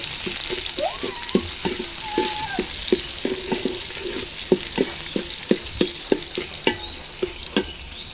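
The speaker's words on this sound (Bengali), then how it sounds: "একটু লবণ দিয়ে দিলাম পেঁয়াজটা তাড়াতাড়ি নরম হয়ে যাবে ভাজা হয়ে যাবে" Onions frying with salt in a pan, sharp repeated scraping and stirring clicks over a soft sizzle, close and fairly loud, with a brief whistle-like tone early on.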